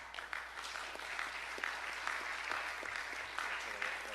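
An audience applauds students receiving certificates at a board of education meeting, with a dense, steady burst of many hands clapping at moderate distance and no pause.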